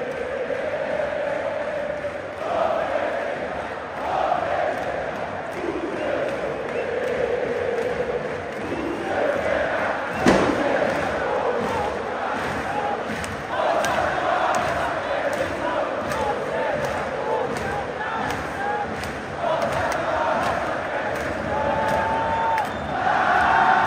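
A large crowd of Flamengo football fans chants and sings in unison in the stadium during a Libertadores match, a dense, rhythmic roar that carries on throughout at a distance, with a sharp bang partway through.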